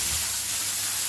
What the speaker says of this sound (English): Our bath now fills up in about 30 seconds with hot water.